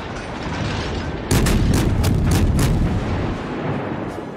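Naval gunfire from a Russian Tier III cruiser, the Bogatyr, in World of Warships on PC: a dull rumble suddenly breaks into a burst of loud, rapid booming shots that rolls on and slowly fades.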